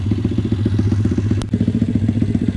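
MRF 140RC pit bike, tested after a repair, idling close and loud with a rapid, lumpy single-cylinder putter, briefly broken by a sharp click or knock midway before the engine carries on.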